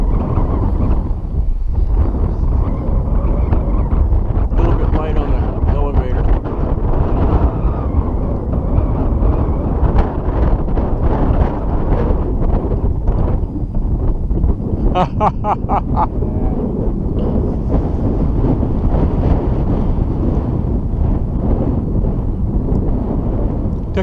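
Wind buffets the microphone outdoors during a hunt in windy weather, a steady loud low rumble running the whole time, with no talk over it.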